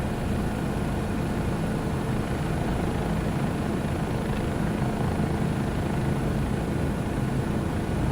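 A Bell JetRanger helicopter flies over London in Microsoft Flight Simulator 2024, a constant loud rotor and turbine roar with steady thumping, close and alone throughout.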